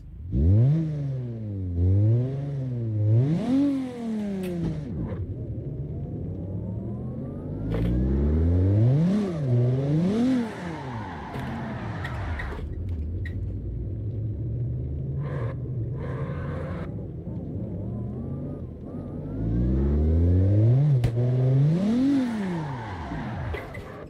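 Car engine in the CarX Drift Racing Online game, revving up and down repeatedly in loud rising and falling sweeps with a rumbling low end, brief pauses between bursts, and no talking.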